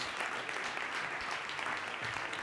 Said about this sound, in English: Let's have a big talent round of applause